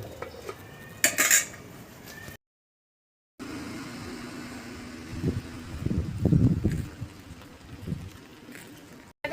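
Clatter of a metal lid and cookware near a pot of taro curry with green chilies, sharp clinks early on, then after a brief gap a low steady hum with a cluster of knocks and rattles as the lid settles.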